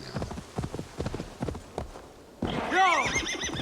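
Horse hooves clip-clop in a steady rhythm in Assassin's Creed Valhalla, then a loud close whinny rings out near the end.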